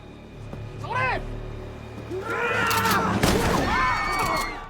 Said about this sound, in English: They shoot Logan, disorienting him completely.